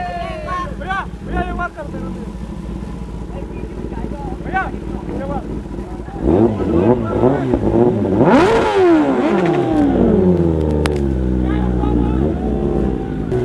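A brand-new 2024 Kawasaki ZX10R motorcycle idles under nearby talk, then its engine revs up sharply and rises in pitch as it rides off, loud and close.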